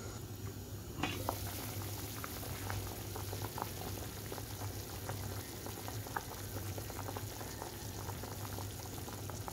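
Chicken simmers in a pot for nilagang manok, a Filipino boiled chicken dish with bone-in pieces and chicken breast. The pot gives a soft, steady bubbling with faint pops throughout and no voices.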